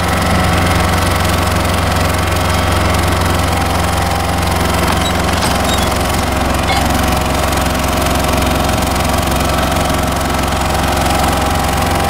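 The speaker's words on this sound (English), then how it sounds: "it's running, it's full of tar" An asphalt tar truck's engine runs continuously, a loud, steady mechanical drone with a rough, knocking rumble, close by with no voices.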